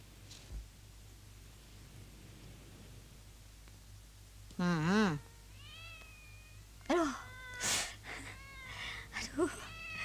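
A cat lets out several drawn-out meows, one around the middle and a cluster of shorter, wavering ones toward the end, heard fairly close over a quiet room with a low steady hum.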